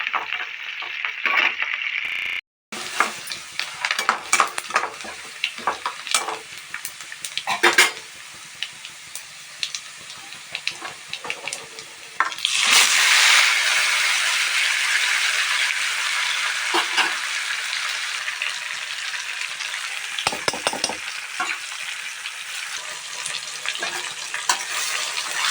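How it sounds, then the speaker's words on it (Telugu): Dried red chillies and curry leaves fry in hot oil for Andhra-style stuffed brinjal curry, a steady close sizzle and crackle that swells partway through, with occasional stirring clatter. "ఇదంతా బాగా ఒకసారి రెడ్ కలర్ వచ్చేదాకా వేయిస్తున్నాను"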